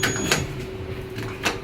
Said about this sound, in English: Door close button does not work. Please mind the doors.